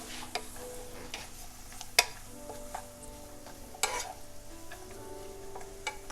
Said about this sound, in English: I'm going to head over back to the stove and check on our sauteed veggies.